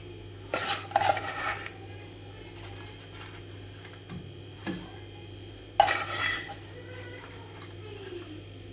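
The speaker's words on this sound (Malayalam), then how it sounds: "ഇനി നല്ലതായിട്ടൊന്ന് ഇളക്കാം" A spoon stirs Kerala-style semiya payasam in a pot, making a few clinks and scrapes against the metal in short bursts over a quiet, steady hum.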